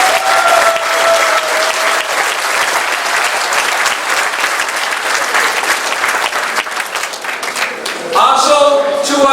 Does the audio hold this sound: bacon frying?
no